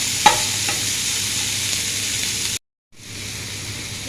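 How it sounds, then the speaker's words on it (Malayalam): Masala dosa filling sizzles steadily in a pan as it is stirred and sautéed, with a light clink near the start and a brief silent break before the frying resumes. "നമുക്ക് നന്നായിട്ട് വന്നിട്ട് വഴറ്റിയെടുക്കാം."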